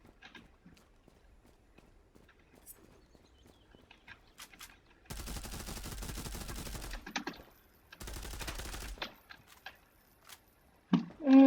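Gunfire in the video game Zula: two sustained bursts of rapid automatic fire, loud and close, after a stretch of quiet clicks and footstep-like taps.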